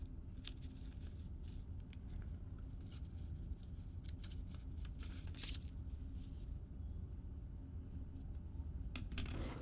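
Scissors snip through fabric for a pair of shorts in a quiet room, a series of soft, close blade clicks and rustles with one slightly louder cut partway through, no talking.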